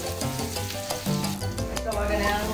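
Onion fries in a pan, giving a close, steady sizzle with bursts of stirring and scraping from a spoon against the metal, and no one talks.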